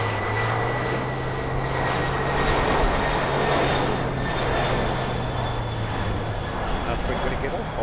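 Air Atlantic cargo plane at Heathrow Airport, bound for Liège, its engines giving a steady, loud broadband roar with a drifting low tone that fades near the end, heard alone throughout.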